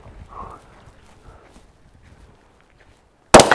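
Two shots from a Faxon carbine during tactical training, a sharp loud report at the very end after near silence with faint shuffling beforehand.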